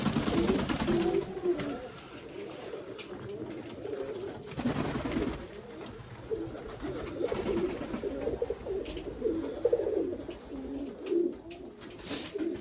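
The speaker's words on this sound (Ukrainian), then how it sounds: "Це голубка, вона крупніша, оце голубка." Pigeons coo in low, throaty, repeated phrases close by in a loft, with occasional rustling and wing flutters.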